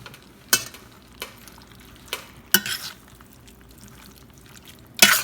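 Butter chicken gravy cooking in a pan, with a soft bubbling simmer underneath and a few sharp spoon scrapes and stirring clanks spaced a second or so apart, close and fairly loud.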